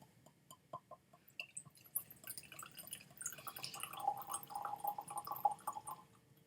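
Canadian 5 Five Star Rye Whisky poured through a bottle's pour spout, giving a run of small drips and clinks that build into a steady, quiet trickle of liquid into a glass, heard close.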